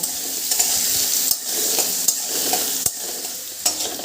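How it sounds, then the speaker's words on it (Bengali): Potatoes seasoned with salt and turmeric sizzle loudly in hot oil as a utensil scrapes and stirs them, giving sharp clinks every second or so over a constant fry. "এবার আলুটাকে ভালো করে আমি লাল লাল করে ভেজে নেব।"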